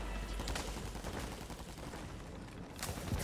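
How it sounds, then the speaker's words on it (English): Continuous gunfire from the Warzone 2.0 video game, a dense, noisy rattle of shots that runs without a break and swells slightly near the end. "I hear gunshots to the left of us"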